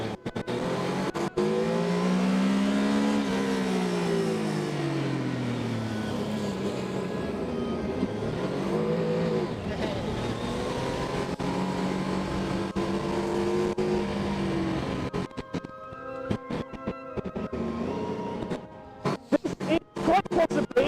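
Formula Student race car engine accelerating and revving with rising and falling pitch sweeps, loud and close, fading into sputtering bursts and clatter toward the end.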